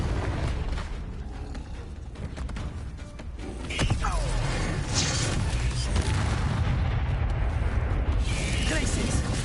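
Fiery Confringo spell blasts in the Hogwarts Legacy video game, a loud booming crackle that swells around the midpoint and rumbles on under dense battle effects, with voices talking over the fight.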